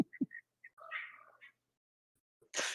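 Indoors, cats, including a mother cat and her kittens, give short high chirps followed by a longer wavering meow, then fall quiet before a brief burst of louder noise at the end.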